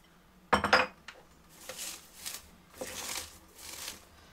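Shredded cabbage being mixed with salt and sugar in a bowl by hand, giving a loud initial crunch followed by repeated soft rustling and scrunching bursts, close and alone.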